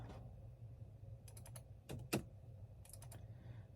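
Keys clatter on a computer keyboard in quick little clusters of taps separated by brief pauses, close and soft against a low room hum.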